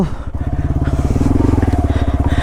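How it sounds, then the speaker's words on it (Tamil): A Hero Xpulse motorcycle engine pulses loud and close under throttle on a downhill trail, with a steady rapid rhythm that climbs slightly in pitch. "நம்ம ட்ராட்டில் விட்டினோம்னா வண்டி பறக்குது."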